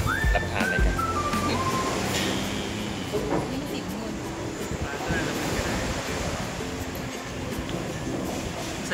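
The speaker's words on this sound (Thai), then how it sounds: "โอ้อันนี้ลมแรงมากนะฮะที่ชายหาดบางแสน" Strong wind buffets the microphone with a steady roar at Bangsaen beach in Chonburi, mixed with the wash of surf and a brief high whistling tone at the start.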